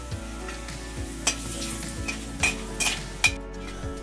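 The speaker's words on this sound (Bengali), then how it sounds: "মাছ ভাজার তেলে দিয়ে দিচ্ছি ফোড়নের জন্য কিছু মশলা। প্রথমে দিচ্ছি গোটা জিরে, দুটো শুকনো লঙ্কা, আর দিচ্ছি তেজপাতা।" Whole cumin seeds, two dry red chillies and bay leaves sizzle in hot oil left over from frying bhetki fish, a steady close fry with a few stirring scrapes and clinks of a spoon against the pan; no one speaks.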